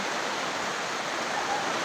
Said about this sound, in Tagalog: Bumuhos na po yung ulan.